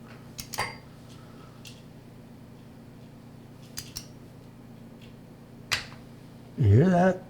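A torque wrench on a Yamaha R6 oil pan gives a few sharp, close clicks spread apart as it reaches set torque, with a brief louder burst of handling noise at the end.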